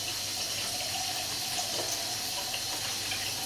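Running water poured into a shaving brush as lather builds, a steady broadband splash and trickle close by, continuous and fairly loud throughout with no talking.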